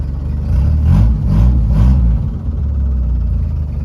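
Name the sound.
1961 International Travelall engine running, diesel-like sound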